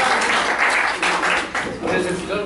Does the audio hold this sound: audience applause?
yes